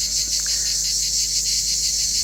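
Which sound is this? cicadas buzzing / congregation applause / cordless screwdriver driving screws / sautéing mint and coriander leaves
cicadas buzzing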